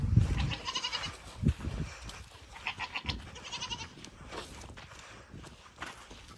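Two miniature goats bleat repeatedly near a wood shop, loud close bleats in a loose series with shuffling hoof steps and rustling between calls.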